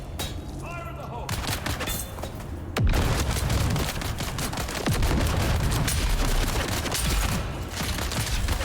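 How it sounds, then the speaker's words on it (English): A grenade blast and heavy gunfire in the game Dune: Awakening: a sharp boom hits near three seconds, then dense, sustained bursts of shots and rumble roll on loudly with voices underneath. "Tossing grenade. Fire in the hole!"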